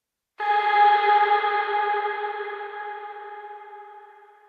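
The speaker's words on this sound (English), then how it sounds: "So it's this crazy wide moving reverb" A sustained synth-like tone blooms into a wide, shimmering reverb from the Eventide Blackhole plugin that slowly decays over several seconds, heard alone.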